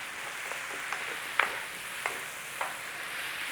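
Mushrooms sizzle softly in a pan as a utensil stirs them, with a few light scraping clicks spaced across a low, steady frying hiss and no talking.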